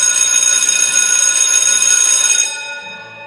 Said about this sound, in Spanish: sonó el timbre.